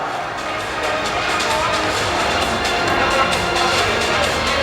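A crowd at a beauty pageant final claps and cheers for the contestants: a dense, steady wash of applause and crowd noise that builds slightly and holds loud to the end.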